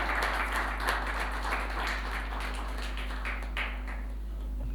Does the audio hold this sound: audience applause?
yes